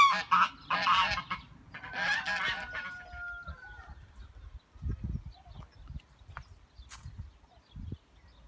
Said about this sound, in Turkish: Kaz arkadaşlarla karşıya karşıya geldik ama üstümüze doğru geliyorlar.